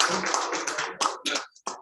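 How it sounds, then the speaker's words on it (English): Audience applause at a Toastmasters club meeting, a short burst of clapping from a small group that quickly thins out into a few scattered claps. "a round of applause for our Toastmasters"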